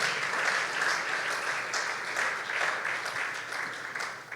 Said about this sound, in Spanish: Denle un aplauso al rey de reyes y al Señor de señores